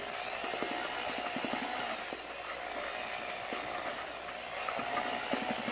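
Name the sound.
power drill mixing metallic epoxy pigment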